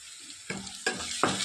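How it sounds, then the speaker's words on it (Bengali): Tomato paste added to hot oil for omelette curry, giving a short burst of sizzling with three sharp spoon strokes against the pan, close and fairly quiet, with no talking. "দিয়ে নিলাম পেস্ট করে রাখা টমেটোটা"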